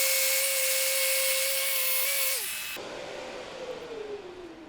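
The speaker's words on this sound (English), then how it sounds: "So I'm going to get my Rotex sander out, strip this paint away right here" Rotex orbital sander stripping paint off a wooden shutter, a loud steady high-pitched whine for about two and a half seconds before it winds down and stops, leaving a fainter descending hum.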